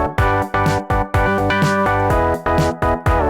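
Synth chord stabs voicing a major seventh chord as root, fifth and octave with the third, fifth and seventh above, played in a choppy rhythm of about eight short, bright hits with near gaps between them, loud and alone.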